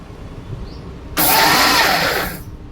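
A mixer grinder whirs into action on green chillies and sesame, a sudden loud motor roar starting abruptly and running about a second before winding down, with quiet background before it.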